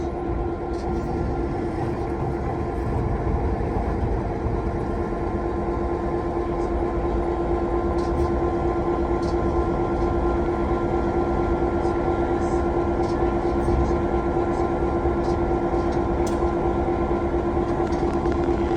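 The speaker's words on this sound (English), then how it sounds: "our locomotive there will go past our train and then through a switch" A diesel locomotive rumbles steadily with a constant engine drone and faint clanking, heard close and continuous throughout.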